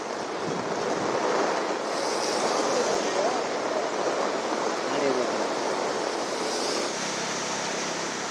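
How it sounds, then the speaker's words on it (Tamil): Rough sea during cyclone Fengal on the Tamil Nadu coast, with a continuous, loud roar of crashing waves and gale-force wind buffeting the microphone, steady and unbroken throughout. "கடல் சீற்றம் காரணமாக பல அடி உயரத்திற்கு அலைகள் எழும்புகின்றன"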